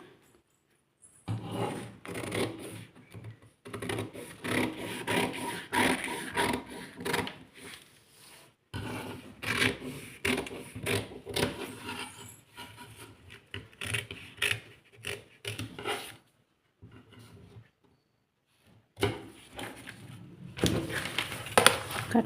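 Scissors cut through a paper blouse pattern on a tailoring table, giving repeated rasping snips and rustles in bursts with short pauses, close and moderately quiet.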